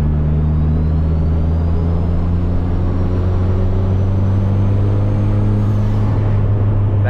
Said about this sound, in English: That turbo sound.